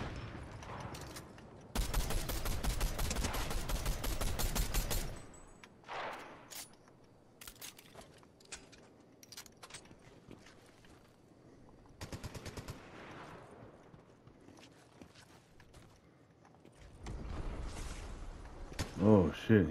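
Fortnite gunfire comes in loud rapid automatic bursts, a long volley early on and a shorter one near the end, separated by quieter stretches with scattered single shots and in-game effects, while a player talks in between.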